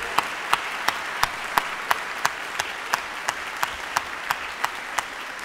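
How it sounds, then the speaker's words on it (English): Audience applause at a university matriculation convocation, a soft steady bed of many hands with one nearby person clapping in a slow, even beat of sharp claps standing out above it. "let's give her a round of applause for that"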